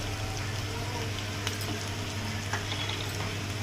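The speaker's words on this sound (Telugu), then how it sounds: "పచ్చివాసన పోయే వరకు ఫ్రై చేసుకోవాలి అల్లం వెల్లుల్లి పేస్ట్ కూడా బాగా ఫ్రై అయిందండి తర్వాత టమాటా ముక్కలు" Ginger garlic paste and tomato pieces frying in a pan, a faint, steady sizzle and bubbling with occasional small pops, alone and close.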